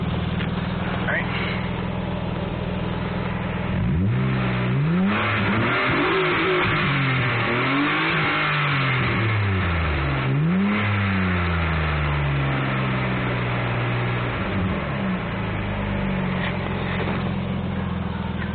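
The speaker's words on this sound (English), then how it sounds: "I'll try and hold out the phone so you can get an idea of what the car sounds like from the outside." A 2000 Nissan Maxima GLE engine heard from outside the car, idling steadily and then revving up and down in several loud swells, with a rough mid-pitched exhaust drone throughout.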